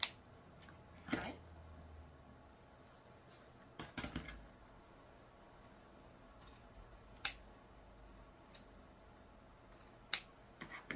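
Scissors snip ribbon tails into dovetail ends for a Valentine's paint stick swag wreath, a few sharp, quiet clicks spaced irregularly over a near-silent room.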